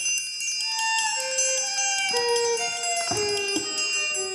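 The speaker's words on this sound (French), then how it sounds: "il a fait sonner les cloches pour réveiller les gens" Church bells ring out in a village, a bright cascade of overlapping tolls with long sustaining tones, struck one after another in a steady peal and heard clearly without voices.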